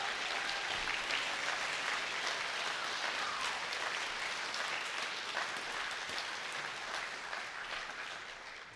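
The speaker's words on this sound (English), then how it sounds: "can we get one more round of applause for all of our mentors" Audience applause for the mentors of a summer trombone workshop, a steady dense wash of many hands clapping that holds for the whole stretch and tapers slightly near the end.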